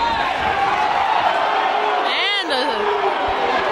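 A crowd at a boys' high school basketball game reacts to a foul call with a continuous roar of voices and a rising whoop, under a commentator's talk.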